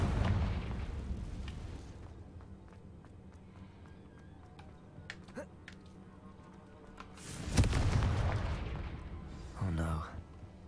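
A Confringo blasting spell goes off in a Harry Potter video game, one loud burst with a long roaring tail in the middle, set among quieter game sounds and voices.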